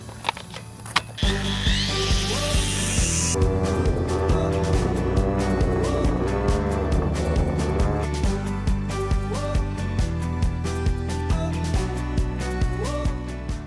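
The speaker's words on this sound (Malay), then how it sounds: "Macam ni lah dia kalau mesin rumput pakai bateri ni." A battery-powered grass trimmer whirs steadily as it cuts grass, its pitch dipping and rising as it meets thicker growth.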